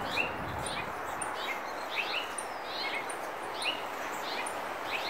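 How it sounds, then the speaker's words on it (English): A mother bird near her nest gives repeated short chirping calls, moderately close, over steady outdoor background noise. "And then the mama bird."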